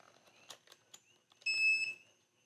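A digital multimeter gives one steady electronic beep lasting about half a second as it is reset, after a few faint clicks, while testing an HVAC blower motor.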